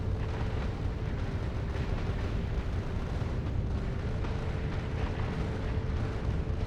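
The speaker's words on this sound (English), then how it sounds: "There's a nice halo of explosions going on" Explosions surround a spaceship in the Factorio: Space Age video game as a dense, continuous rumbling roar of overlapping blasts at a steady moderate level.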